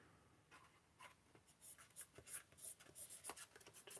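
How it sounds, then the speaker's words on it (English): A bone folder pressed and rubbed across paper for a 3D box craft, soft scraping strokes in a quick irregular series, close and faint. "Use my bone folder"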